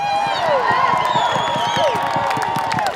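Crowd noise at a pro-Trump political rally in Washington DC, a steady murmur with scattered whoops, claps and cheering, while a speaker's voice rings over an echoing PA.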